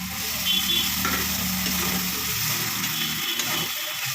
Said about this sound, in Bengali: দিয়ে ভালো করে এটা নাড়াচাড়া করে নিচ্ছি